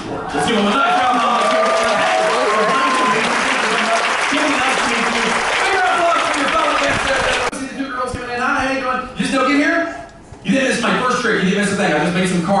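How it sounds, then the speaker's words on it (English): Audience applause after a card magic trick aboard a Carnival cruise ship, a sustained burst of clapping from the crowd that thins and breaks up toward the end, with voices mixed in. "Let's give them a nice round of applause."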